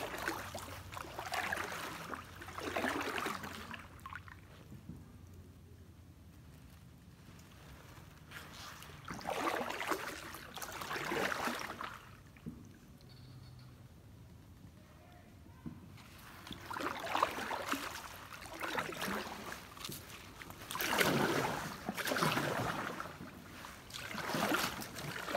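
Canoe or kayak being paddled through an Everglades creek, with soft splashing strokes that come in bursts between quieter stretches, plus some wind rumble and no clear speech.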